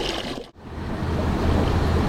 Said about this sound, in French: Pendant que le bassin se remplit après avoir été bien nettoyé